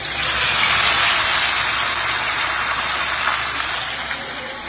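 Batter-coated paneer frying in hot oil in a wok, a steady loud hiss and gush of bubbling oil that holds throughout and eases slightly toward the end.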